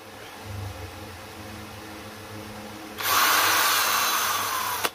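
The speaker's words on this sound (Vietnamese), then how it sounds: "Bây giờ mình khoan cái lỗ để mình đưa điện vô." A power drill bores a hole through a box enclosure for an electrical wire feed, a loud steady whine starting partway through and running continuously to the end after a quieter stretch.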